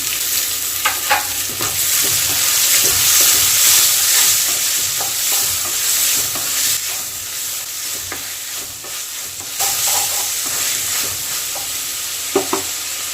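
Tomatoes and onions frying in a pan for prawn kuzhambu, a steady close sizzle broken by scraping stirs and a few sharper clinks, with no one talking.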